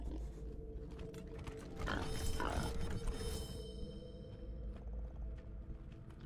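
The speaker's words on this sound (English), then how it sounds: "I think this sound is the pigs" Pigs grunt and snort in the video game Wasteland 3, faint and low, with clicky mechanical game ambience behind them.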